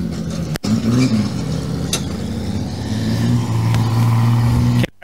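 A VF Commodore production sedan race car idles and revs steadily after a heat race, its engine a loud, continuous low drone with harmonic tones that rise partway through, then cuts out abruptly at the end.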